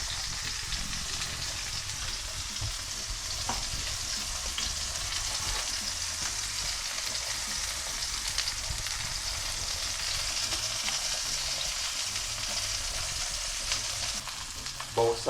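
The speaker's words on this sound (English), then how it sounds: "So I'm gonna have it browning on both sides." A lamb pot roast browns in a pan with a dense, steady sizzle and crackle, close and even throughout, ending with a brief clatter.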